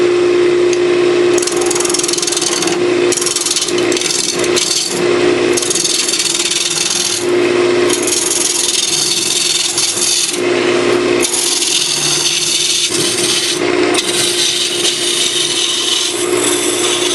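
A gouge cuts a Christmas ornament spinning on a wood lathe, giving a loud, close, rasping scrape in repeated passes of a few seconds each with short pauses between, over the steady hum of the lathe.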